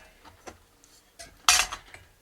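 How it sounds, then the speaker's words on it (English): A metal DIY backpacking stove and pot cook kit being nested together, with several light clinks and scrapes of metal on metal followed by one louder clattering clank near the end. "Now everything except for the sturdy base packs up nice and neatly inside each other"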